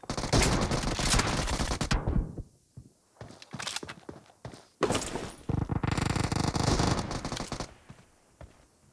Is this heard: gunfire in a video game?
yes